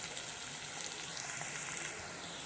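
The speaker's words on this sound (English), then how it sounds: "Now the onions are becoming golden brown" Onions fry in oil as they turn golden brown, a soft, steady sizzle with a faint bubbling hiss and no voices.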